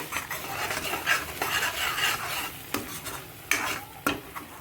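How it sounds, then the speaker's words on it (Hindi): Masala with dried fenugreek leaves being stirred in a pan for sweet potato kofta, with repeated spoon scrapes and clinks against the metal over a soft background sizzle, close and moderately loud. "मिक्स कर लेंगे इसे"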